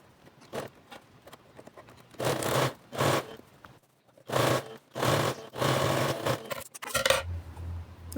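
A domestic sewing machine runs stitching fabric seams on the wrong side of a garment, in several short bursts of rapid whirring separated by pauses.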